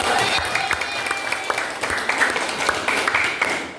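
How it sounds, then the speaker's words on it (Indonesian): Students in a tenth-grade classroom clap for a group after its answer: a short burst of brisk, scattered applause that fills the room and is fairly close. "Oke, ya tepuk tangan dulu untuk kelompok."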